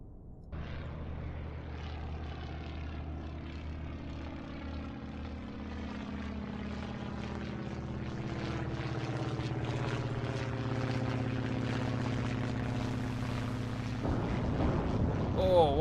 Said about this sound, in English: We can now try and bomb this one with the Swordfish depth charge bombers.